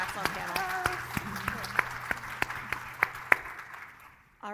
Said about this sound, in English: can everyone please join me in just a warm round of applause and thank you.